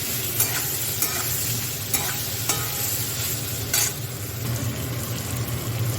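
Potato pieces frying in a pan with salt, turmeric and chilli powder, a steady loud sizzle broken by sharp scrapes of a spatula stirring every second or so.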